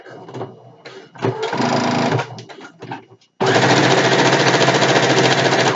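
A sewing machine stitches a satin pillowcase. After short bursts and some handling noise it settles into loud, rapid, continuous stitching, with no talking.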